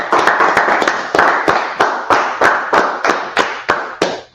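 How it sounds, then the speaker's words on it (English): A congregation at a Sabbath service claps hands loudly and close by, with about a dozen strong, evenly paced claps over a dense, steady clatter of many hands. The clapping thins out and ends abruptly. "clap it up."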